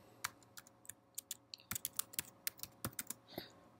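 Keys clatter on a computer keyboard as a comment is typed, irregular clusters of sharp clicks with short pauses, close and fairly quiet, with no voices.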